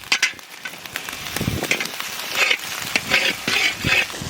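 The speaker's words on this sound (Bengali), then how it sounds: "আদা রসুন একটু নাড়াচাড়া দিয়ে সুন্দর করে ভেজে নিয়েছি।" Ginger and garlic frying in oil with onions give an uneven sizzle broken by crackling bursts and the scrape and knock of a spatula stirring the pan, with no talking.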